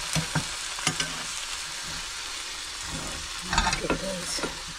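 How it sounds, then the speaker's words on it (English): Bacon frying in a small pan at a caravan campsite, a soft steady sizzle with occasional scraping and tapping of a utensil close by. "Got the bacon on now."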